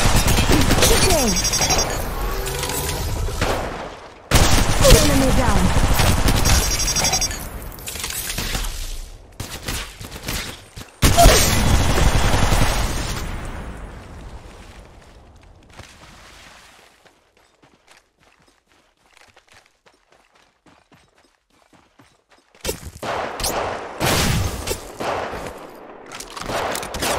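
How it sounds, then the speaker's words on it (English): Gunfire in Apex Legends Mobile, with bursts of rapid automatic shots and sharp impacts in loud stretches, separated by near-silent gaps before another volley returns at the end. "Shooting."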